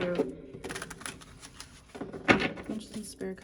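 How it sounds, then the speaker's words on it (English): Tarot cards being shuffled, heard as soft papery riffles and scattered rustling bursts with one louder flurry near the end, while a person's voice murmurs faintly in the background. "one more shuffle here"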